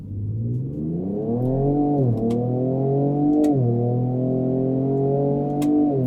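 A Ford Ranger Raptor in sport mode accelerates up to highway speed, its engine rising loud and close through several paddle-shifted gear changes, each marked by a brief dip before pulling again.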